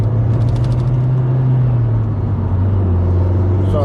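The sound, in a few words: Toyota Yaris accelerating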